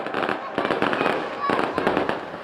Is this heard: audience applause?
no